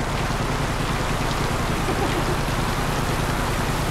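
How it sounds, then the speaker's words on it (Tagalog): Heavy rain pours steadily, a dense, loud hiss with no breaks throughout. "Sobrang lakas ng ulan."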